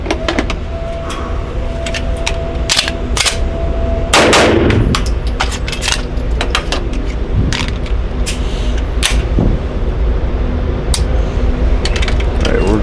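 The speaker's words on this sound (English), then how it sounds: "Obviously I'm doing double taps because in most competition it's best 2 on target." Pistol fired in pairs during a USPSA competition drill, sharp close gunshots in quick double taps spread across the stretch, with a louder burst partway through and mechanical clicks between.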